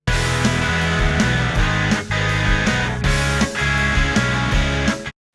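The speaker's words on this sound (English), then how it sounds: "So we've got two channels that sound like this." Two double-tracked indie guitar channels play a loud, dense strummed chord pattern together, with steady rhythmic accents and a few short breaks before stopping abruptly.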